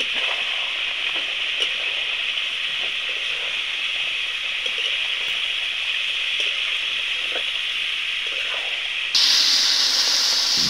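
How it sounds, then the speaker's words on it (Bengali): Water poured into a pan of sautéed fish and potato curry, giving a steady loud sizzling hiss that carries on evenly before turning brighter and harsher near the end. "কষানো হয়ে গেলে জল ঢেলে দিয়ে দিয়েছে।"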